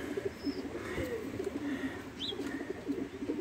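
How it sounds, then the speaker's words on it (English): Kept pigeons or doves cooing softly in a steady low rhythm nearby, with occasional faint chirps above a murmuring background. "These are few of some of my birds on this side."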